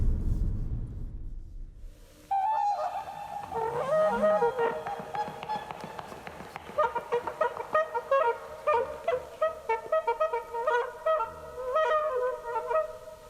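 Goose-like birds honk and call repeatedly in a busy, overlapping chorus, rising after a low rumble at the start and continuing in quick, rhythmic bursts.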